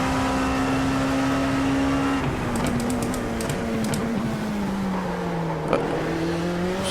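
A racing car engine in a sim racing game accelerates and holds a steady high-pitched drone that dips slightly as revs shift, close and continuous, with faint clicks over it.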